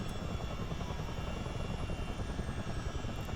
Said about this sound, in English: Engines are working on their own now.